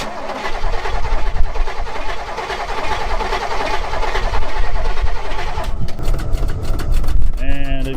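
Long-seized Oldsmobile 98 V8 cranking and catching to run, a loud rough churning engine with a mechanical rattle that shifts to a faster sputtering near the end, with some nearby talk.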